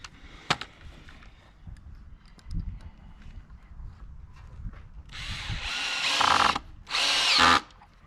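A power drill whirs in two short bursts while a chicken coop is built in a woodshed, after scattered knocks and handling thuds, close and fairly loud with no talking.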